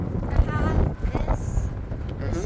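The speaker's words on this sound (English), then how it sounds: "It's very windy today, very windy." Blustery wind buffeting the microphone, a loud continuous rumbling roar with gusts, and faint voices mixed underneath.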